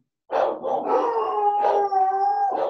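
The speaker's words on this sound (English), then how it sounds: "that's why they're barking" Several dogs bark and howl close by in a sustained, overlapping chorus of long wavering howls broken by sharp barks, loud and with no speech over it, set off by lawn fertilizer being applied outside.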